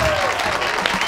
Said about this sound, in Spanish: Un fuerte aplauso para Darwin Castro